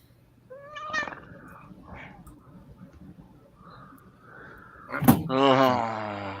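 A house cat meows several times indoors, with short calls early on and a louder, drawn-out meow near the end, against a quiet background.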